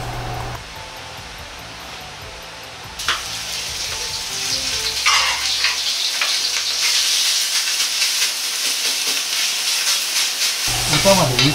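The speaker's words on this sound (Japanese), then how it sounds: "ひき肉を炒めていきます。" Minced meat stir-frying in a wok with a spoon of oil, for spicy cabbage yakisoba: a loud, steady sizzle and hiss with stirring scrapes, rising after a quieter start, no talking.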